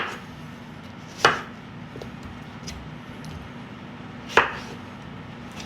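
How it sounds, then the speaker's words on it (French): A knife chops melon into rough, large chunks for a melon gazpacho. Two sharp, separate knocks land a few seconds apart over a steady low background hum. "Donc on les coupe, hein, vous les coupez en gros."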